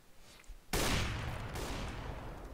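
Gunfire from an AWP sniper rifle in Counter-Strike: Global Offensive, a sudden loud blast after near silence, with a second crack about a second later, both trailing off into sustained noisy decay.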